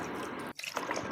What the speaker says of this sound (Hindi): इसके ऊपर मैंने थोड़ा थोड़ा डाला पानी